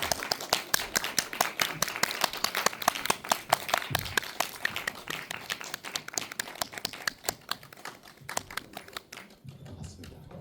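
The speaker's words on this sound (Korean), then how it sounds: "여러분 박수 한번 부탁드리겠습니다." An indie cinema audience applauds as the director and actors arrive for a post-screening talk, a long, dense run of crowd clapping that fades toward the end as a voice begins speaking.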